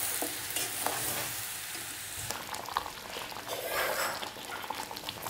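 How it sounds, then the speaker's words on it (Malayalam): Gooseberries simmering in a thick honey and sugar syrup are stirred in a pot, with steady bubbling and soft scraping strokes, close and continuous, no voices. "ഇന്ന് ചെറുതായിട്ടൊന്ന് ഇളക്കി കൊടുക്കണം അടിയിലൊന്നും പിടിക്കണ്ട"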